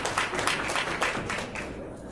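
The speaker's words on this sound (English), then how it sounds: "You can definitely applaud that." Applause from guests at a county business roundtable holiday awards reception, a dense wash of many hands clapping at moderate loudness, steady and then tapering off at the end.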